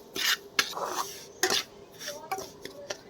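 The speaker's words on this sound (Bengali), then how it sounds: "এবার নেড়ে নেব একটু ভাজা ভাজা হবে" Semolina stirred in ghee in a pan: a few sharp scraping clinks of a utensil against the pan with softer rustling between them, fairly close and moderately quiet.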